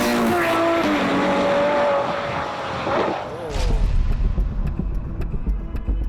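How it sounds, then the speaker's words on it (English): A new Ford GT supercar blasts past at speed, its engine note swelling and falling away before a loud, rumbling low roar takes over, with a voice talking over it. "This is the new Ford GT."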